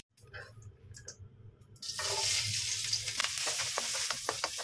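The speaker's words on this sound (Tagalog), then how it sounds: "Yung ginamit ko naman dito ng saute ko ng bawang ay yung pinagprituhan ko ng aking isda." Garlic sautéing in leftover oil from frying fish, a quiet low rumble first, then a loud steady sizzle and crackle bursting in as the garlic hits the pan and continuing alone.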